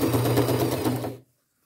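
A sewing machine runs a steady, rapid stitch along cargo jeans for a second row of reinforcing stitching, loud and close, then stops abruptly.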